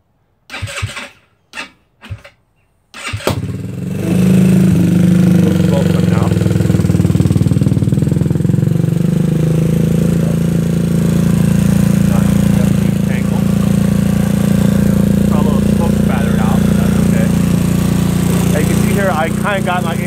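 A GY6 scooter engine fires up from a cold start after a few brief cranking bursts, then settles into a loud, steady idle with a constant low drone, running alone throughout.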